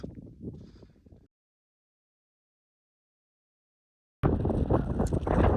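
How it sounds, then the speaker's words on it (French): Blustery wind in the Namib Desert buffets a microphone in loud broadband gusts, cutting out into silence for a few seconds before roaring back even stronger. "y a énormément de vent"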